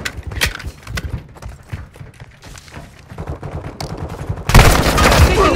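Sustained gunfire in Call of Duty: Modern Warfare II, with rapid bursts of shots crackling throughout and a louder, dense barrage of fire erupting near the end.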